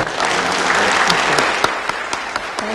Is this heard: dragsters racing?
no